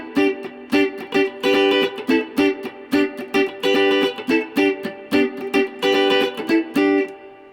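Guitar plays the verse groove of a song as a clean, rhythmic pattern of short punchy chord stabs and muted gaps, repeating steadily and up close for about seven seconds with no voice.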